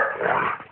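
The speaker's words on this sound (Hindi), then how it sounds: "अबे कुत्ते क्यों भौंक रहे हो?" A dog gives a short, rough bark or growl, close and fairly loud, lasting under a second with no talking.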